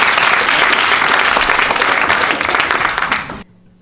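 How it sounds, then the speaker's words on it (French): Audience applause closing a round-table panel on Chinese animal farming sectors, a steady dense clapping of a sizeable crowd held for over three seconds before cutting off abruptly into quiet. "On peut les applaudir"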